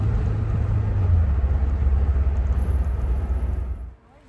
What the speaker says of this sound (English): Here Cadillac from the 1980s, and this one is mine. Here we're driving across the countryside.